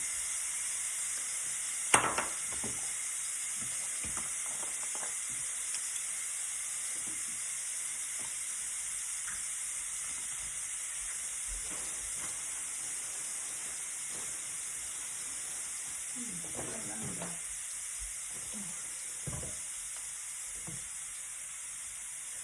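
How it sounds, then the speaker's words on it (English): Steam hissing steadily from a pressure cooker's release valve after its button is pressed, a constant faint hiss lasting throughout with a few soft clicks and knocks in the kitchen. "You can see how the steam and my finger are nowhere near each other."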